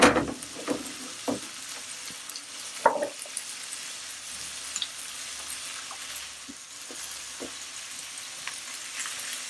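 Brótola fish frying in a pan over high heat with beer, giving a steady quiet sizzle with occasional crackles and scraping stirs, close by and without talk.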